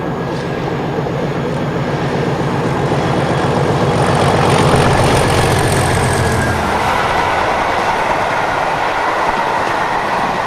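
Charter train running on UK rails toward Holyhead through North Wales, with loud, continuous rumble and rhythmic clickety-clack of wheels over rail joints for the full length, heard nearby and alone.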